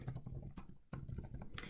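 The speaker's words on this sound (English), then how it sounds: "I'm just typing quickly." Quick typing on a computer keyboard, a close, steady clatter of keystrokes in short bursts with brief pauses, no talking.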